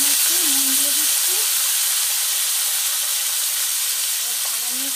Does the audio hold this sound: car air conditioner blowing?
no